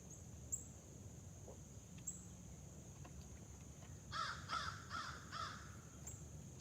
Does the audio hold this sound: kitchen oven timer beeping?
no